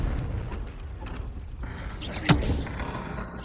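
A Confringo blasting spell goes off in Hogwarts Legacy, a muffled rumbling boom beneath a sharp crack near the middle, set against low game ambience at moderate volume.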